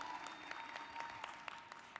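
An audience at an NAACP convention claps throughout, a soft, distant patter of many hands with no voices.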